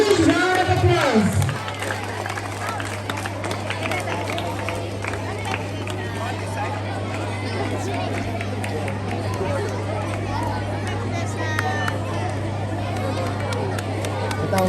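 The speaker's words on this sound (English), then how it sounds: "Give them a huge round of applause." Steady crowd applause and cheering at a school karate show for the best boys' category player, a broad wash of clapping mixed with chatter and a constant low hum, continuing evenly throughout.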